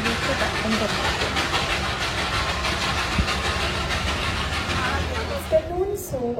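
The Darjeeling toy train passes near a homestay as a steady, dense rumble and rattling wash that stays constant throughout, with low voices in the background.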